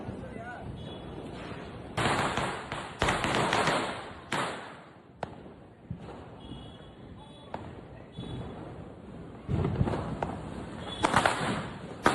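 Diwali firecrackers burst in Chennai as a string of loud, crackling blasts and sharp pops, some close and some farther off, with people talking in between.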